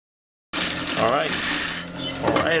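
Sewing machine stitching a dress sleeve onto the bodice of a monostrap A-line dress, starting abruptly after a moment of silence and running in a close, steady mechanical whir.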